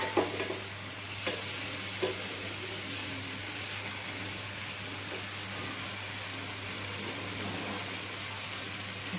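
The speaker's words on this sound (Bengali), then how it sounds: "লঙ্কাগুলো কেটে রেখেছি, শুকনো লঙ্কাগুলো দিয়ে দেবো।" Dried red chillies fry in a pan on medium heat for homemade pizza sauce, giving a steady close sizzle with occasional stirring scrapes and no talking.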